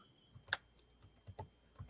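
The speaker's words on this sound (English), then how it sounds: "And while he's typing that" Typing on a computer keyboard during a talk conversation, a few quiet scattered keystrokes with one sharper click, close and isolated.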